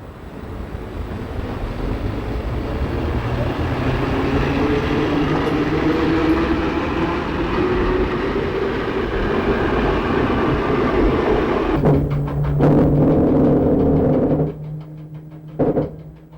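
A train running on the Lyon-Geneva rail line, with a loud, steady rumble and wind rush that continues throughout, followed by a brief burst of clattering before it fades near the end.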